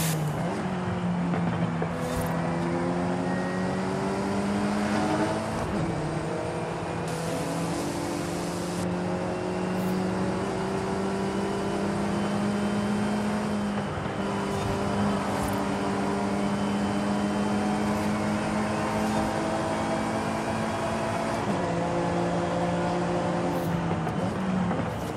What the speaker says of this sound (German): jetzt kommt wieder der Porsche